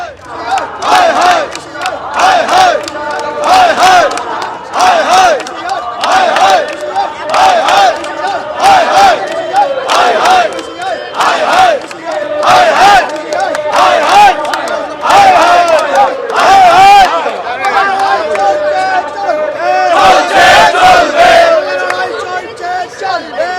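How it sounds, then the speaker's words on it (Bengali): Protesting booth-level election workers hold a blockade and chant slogans, loud and close, in repeated rhythmic bursts of many voices shouting together, with brief gaps between calls. "তারা এই মুহূর্তে অবরোধ করছেন, ওখানে একেবারে স্লোগান দিচ্ছেন"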